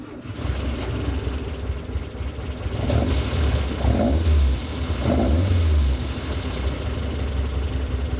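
A Volkswagen car engine revs repeatedly over a steady mechanical idle, with low throaty swells rising and falling about every second, heard close and loud with no talking.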